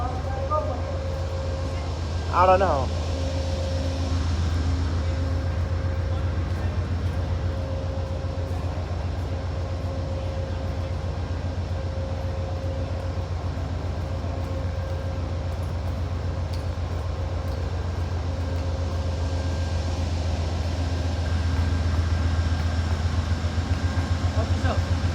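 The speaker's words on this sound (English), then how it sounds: "This is the northbound Coast Starlight." The northbound Amtrak Coast Starlight passenger train passes in Oakland as a steady low rumble and drone throughout, with a brief burst of noise early on and people talking nearby.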